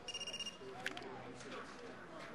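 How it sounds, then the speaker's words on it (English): Telephone ringing in a fast pulsing burst of electronic trills at the start, fairly faint, followed by quiet room ambience with murmuring voices. "I have a phone call."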